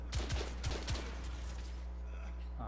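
Several sharp gunshot bursts crack out in quick succession over a steady low rumble, with a voice briefly audible amid the sounds of the video game The Order: 1886.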